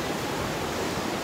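Ocean water churns beneath the Santa Monica pier as a dense, unbroken rush of surf noise, loud and close, filling the whole moment without any talking.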